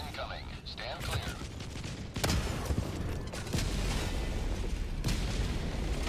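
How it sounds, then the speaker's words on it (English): Orbital barrage explosions in Helldivers 2 hit in heavy booming blasts after a voice line, the rumbling impacts repeating and layering over sustained battlefield noise. "Orbital barrage incoming."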